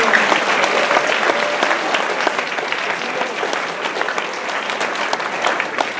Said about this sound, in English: Please give a round of applause for these two amazing people.